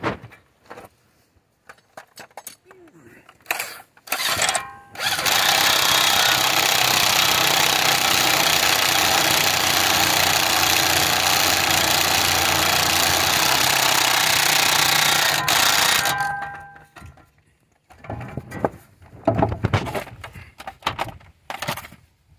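A loud impact wrench hammers a new axle nut onto a Chevy Equinox front CV axle in one long continuous burst of rapid rattling, with short taps and shop noise before and after.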